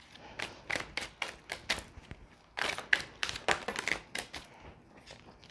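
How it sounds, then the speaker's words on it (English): A deck of oracle cards is shuffled close by, giving quick crisp riffling and tapping bursts in uneven clusters, moderately soft and without speech. "And we're just shuffling."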